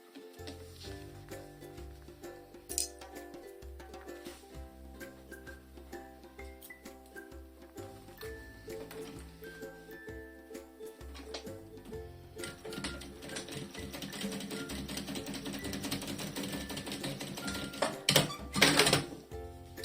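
A domestic sewing machine stitches close along the edge of a pocket on a fabric toiletry bag, running in a steady mechanical rattle with short pauses and speed changes, growing busier toward the end.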